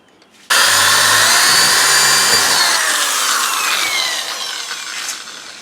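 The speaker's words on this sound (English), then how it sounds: "Another way to do it is just drill a hole in the airbag itself," A corded drill whines loudly as it bores into a rubber rear air spring on a 2005 Mercury Grand Marquis, a steady high-pitched grinding that holds for several seconds before easing off.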